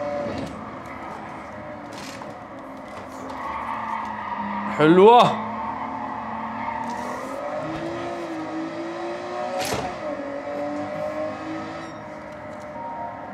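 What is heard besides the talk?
1990s car driving and skidding in Gran Turismo 7 video game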